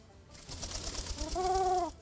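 Pigeon cooing in the video game Bum Simulator: after a soft, breathy rustle, one short, clear, rising-and-falling coo rings out close and fairly loud before cutting off.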